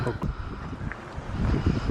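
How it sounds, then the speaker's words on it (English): Low, gusty wind rumbles and buffets a microphone outdoors at Totnes Castle in Devon, rising and falling unevenly, with no clear voices. "it's windy today"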